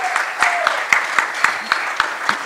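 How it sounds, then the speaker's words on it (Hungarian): Sparse, distinct hand claps from a small audience at a ninetieth-birthday tribute to actress Zsuzsa Gyurkovics, an irregular sequence of sharp individual claps close by with faint murmuring underneath. "igen, jár nekik is a taps"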